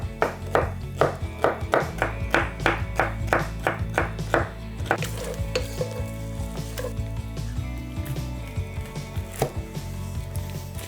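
A knife chops onion on a board for bolognese sauce, a steady run of rapid sharp taps at close range, with some sizzling in the background.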